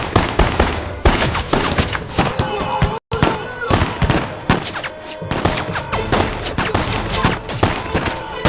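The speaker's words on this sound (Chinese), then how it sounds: "刘学军，你敢叫我们开枪，我跟你拼了！" A rapid volley of gunfire in a Chinese Republican-era period drama, dense cracking shots fired loud and close almost without pause, with shouting voices mixed in.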